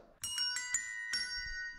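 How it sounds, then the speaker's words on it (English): Samsung notification melody played on desk bells: a quick run of five bright, ringing metallic strikes with long shimmering overtones, close and clear, ending on a sustained tone. "Desk bells."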